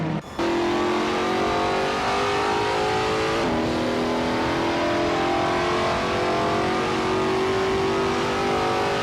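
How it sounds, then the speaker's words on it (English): Racing car engines in a video game race, including a 2007 Ferrari F430 GTC, holding a loud sustained whine that climbs gradually, with a short dip and gear change midway. "Bot Darletsko is driving a 2007 Ferrari F430G TC."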